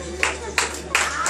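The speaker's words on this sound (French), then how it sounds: "de les applaudir comme il se doit" Short bursts of clapping from an audience at a campsite show, three or four quick swells of applause close together, fairly loud with a faint steady hum underneath.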